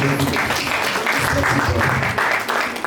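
Steady, dense applause from a conference audience, continuous and fairly loud throughout, with a voice faintly mixed in.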